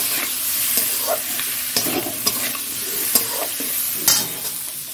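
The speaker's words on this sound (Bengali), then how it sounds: "আলুটা একটু ভাজা হোক" Potatoes frying in a pan for an egg curry, a continuous close sizzle punctuated by sharp scraping stirs of a spatula against the pan, with no voices.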